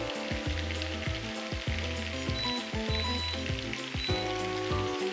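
Bresse chicken sears skin side down in a pan, a continuous crackling sizzle heard close up, mixed with steady musical tones underneath.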